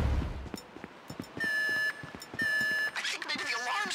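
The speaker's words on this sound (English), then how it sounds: "I think maybe the alarm's going." A repeating electronic alarm in GTA 5 sounds two sustained tonal beeps amid gunfire-like clicks and game effects, moderately loud and alone without talking.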